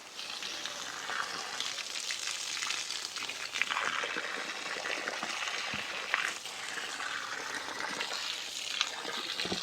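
Water is poured onto grape vines and greens in a home garden, a continuous splashing trickle with fluctuating gushes and a few sharp drips, close by with no voices.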